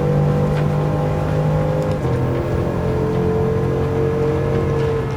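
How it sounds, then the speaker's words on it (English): A 2013 Bugatti Veyron 16.4 with quad-turbo engine racing in a PS5 game at La Sarthe Circuit, a steady loud engine drone at high revs with a slight pitch shift partway through. "I think the Veyron's quad turbo monster will probably kick in"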